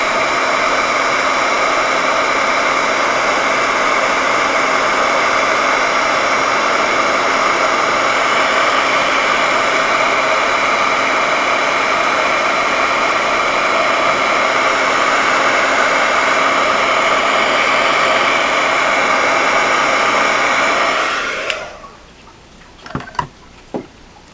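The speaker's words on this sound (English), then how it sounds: "Always remember to heat your heat gun up off to the side before you put it over your clay" A heat gun for polymer clay work blows hot air in a steady, loud, even whoosh for about twenty seconds, then shuts off, leaving a few faint clicks and knocks.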